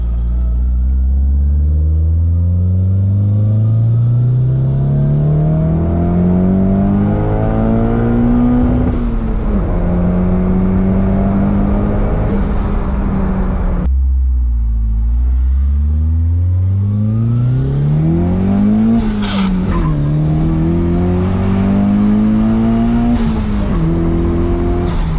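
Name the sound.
Nissan CA18DET engine car revving to redline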